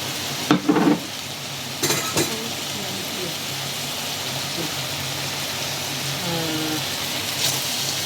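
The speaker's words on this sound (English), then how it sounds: "I dump in some green peppers." Green peppers dropped into a hot wok for Cantonese sweet and sour pork, giving a steady close sizzle with a couple of sharp stirring clatters near the start.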